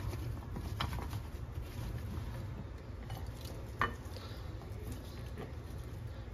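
Seasoned sweet potatoes stirred around in a pan, a soft continuous scraping and clinking of utensil on metal with a faint sizzle underneath, one sharper knock midway.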